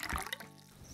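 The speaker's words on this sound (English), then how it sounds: "now let's put a soda. Ooh, bubbly water." Fizzy soda water pouring into a container for a kids' homemade potion, a brief close splashing gush that settles into a soft trickle.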